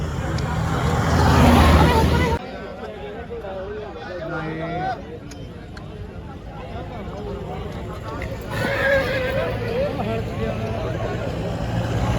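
Hooves clip-clop over a road among vehicle noise at a horse fair in Jagraon, Punjab, with people talking loudly nearby; a brief whinny may sound near the start.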